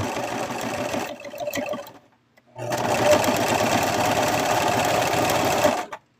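A sewing machine stitches a mothman baby plush in two steady running bursts: about two seconds of whirring, a short pause, then a longer three-second run before it stops.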